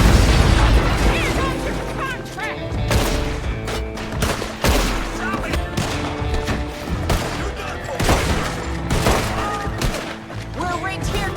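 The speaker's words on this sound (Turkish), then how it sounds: "Ve burada çatışma artık kaçınılmazdı." A dense gunfight in the video game Red Dead Redemption 2, rapid gunshots and bursts cracking continuously with mechanical clatter and game voices mixed in.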